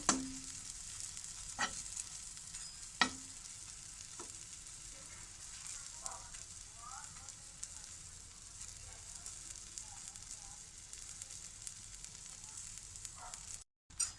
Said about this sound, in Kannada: ಈ ರೀತಿ ಇನ್ನೊಂದು ಸ್ಲೈಸ್ ಹಾಕ್ಕೊಂಡು ಈ ಸ್ಲೈಸ್ನ ಸ್ವಲ್ಪ ರೋಸ್ಟ್ ಮಾಡ್ಕೋಬೇಕು.